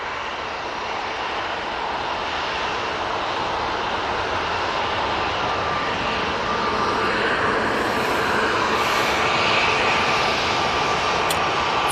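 An Airbus A320-200 taking off from Manchester Airport, bound for Catania, a loud steady jet engine roar that builds slightly as it rotates, heard from a distance.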